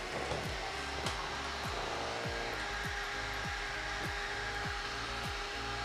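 A Suncell cooler fan powered by a power bank whirs steadily and fairly quietly, its motor hum joined by a regular, repeating ticking pulse that runs throughout with no speech.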